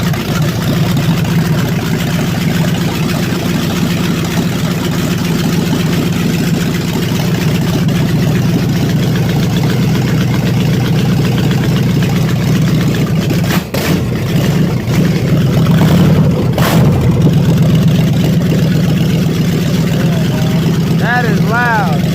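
A rebuilt Chevy Nova engine runs loud and steady, with a dense, continuous roar that surges slightly as it revs, while people talk faintly in the background.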